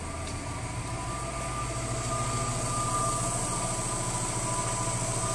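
A turbocharged Subaru EJ22 engine idles with a steady low drone and faint high whine, continuous and fairly close, with no voices.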